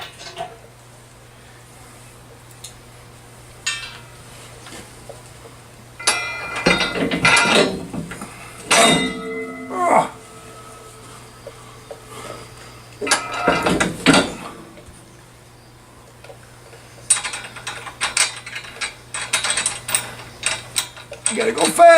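Ratcheting wrench bursts tightening trailer hitch nuts under a 2012 VW Golf TDI, several quick clicking runs separated by pauses, close and clear over a low steady hum.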